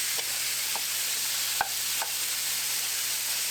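Grain-fed ground beef for a Tex Mex walking taco casserole is broken up in a hot pan. A steady sizzle runs throughout, with a few sharp utensil taps and scrapes against the pan.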